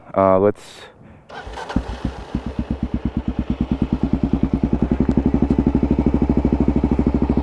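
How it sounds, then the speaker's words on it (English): A Kawasaki KLR650 motorcycle cranks over briefly, catches, and settles into a loud, close thumping single-cylinder idle with a rapid, even pulse that grows steadier over several seconds. "let's fire it up and head back"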